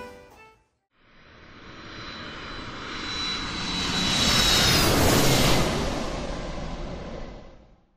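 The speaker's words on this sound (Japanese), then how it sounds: "これから今伊丹で飛行機乗って帰ります。" An airplane engine roars at Itami Airport, Osaka, swelling from quiet to a loud, rushing peak as the aircraft passes close, then slowly fading.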